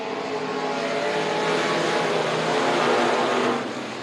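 Race cars roaring together at the start of a race, heading into the first turn; a loud, dense, continuous engine drone that swells slightly and holds steady with no talk.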